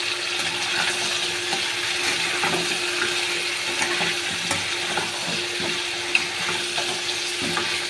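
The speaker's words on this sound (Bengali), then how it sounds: "এবার মাংসটা দিয়ে দেবো, এর সাথে একটু ভেজে নেবো ভালো করে।" Chicken pieces sizzle and fry in a pan with onion and potato for a spicy chicken kosha, a steady close crackle broken by repeated scraping stirs and one sharp clack near the end.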